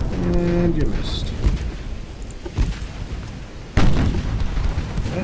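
Naval guns firing in the warship battle game Ultimate Admiral: Dreadnoughts, with a few deep booms and sharp blasts, one very loud near the end, over a rumbling battle background, with a horn-like tone early on.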